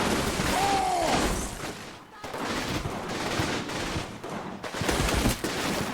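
Crackling volleys of machine gun and rifle fire in the wartime strategy game Combat Mission, rolling at mid distance with occasional heavier thuds, with a voice speaking briefly over it.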